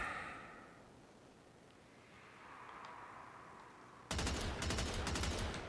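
Gunfire in Warframe, a dense rapid burst of shots that bursts in loud and close after several seconds of quiet low ambience.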